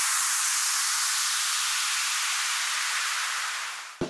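A downlifter effect for a future house drop: a wash of bright white-noise hiss that slowly thins and fades over about four seconds, then ends with a brief soft thump.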